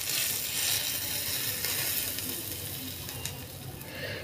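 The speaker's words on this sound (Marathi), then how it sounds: "ही फोडणी आपण आता चटणीवर ओतूयात।" Hot tempering of oil, cumin, mustard seeds, asafoetida and curry leaves is poured over a roasted red capsicum chutney, giving a steady, close hiss and crackle that holds for several seconds and fades slightly.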